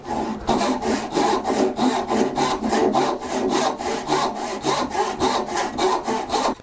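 A hand saw rips down through wood to cut a bridle joint, giving steady rhythmic rasping strokes of roughly two per second, loud and close, with no talking.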